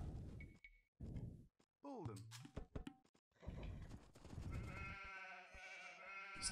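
Sheep bleat in a strategy video game, short nasal calls popping out among clicks and thunks of game effects, while people talk throughout.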